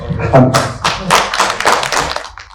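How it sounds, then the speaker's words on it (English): Conference audience at a cyber security conclave applauding, a burst of close claps and taps that swells and then fades within a few seconds. "A huge round of applause for him, please."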